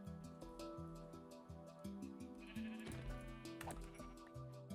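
Sheep bleating in the Minecraft video game, several wavering cries in quick succession over a repeating low musical loop, close and clear.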